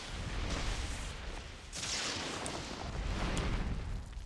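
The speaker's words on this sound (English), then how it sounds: "We see some artillery fighting." Artillery fire in a multiplayer strategy video game match, a dense continuous roar of overlapping booms and blasts that swells and dips without pause, fairly loud and alone.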